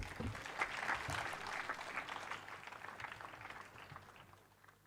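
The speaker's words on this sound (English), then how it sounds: "Can we have a huge round of applause?" Applause from an audience at a conference conclave, moderately distant clapping that is strongest at the start and gradually fades away over a few seconds.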